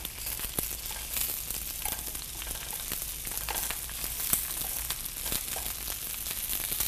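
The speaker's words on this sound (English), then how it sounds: "I'm going to saute them in the butter to actually cook them in" Asparagus sautés in butter in a hot pan with a constant close sizzle, sharp crackles and pops scattered through it, and no voices.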